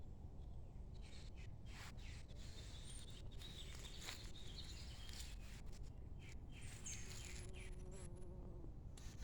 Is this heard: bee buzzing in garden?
yes